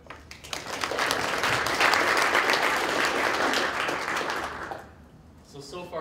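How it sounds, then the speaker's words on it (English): Audience applause for a presenter at a conference event, a dense, steady burst of many hands clapping that swells and then fades, with voices briefly audible at the end. "Let's have a round of applause for Brent Lloyd"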